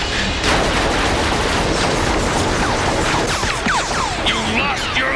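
Rapid cartoon gunfire crackles through a loud animated battle among transforming robot beasts, dense bursts layered over roaring effects and swooping sweeps with no pause.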